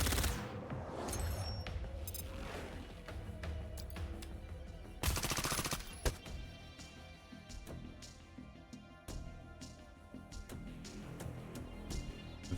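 Gunfire in the video game Reverse Collapse as enemies attack a turret, with repeated shots and bursts over continuous game music and effects, including one loud, dense burst midway.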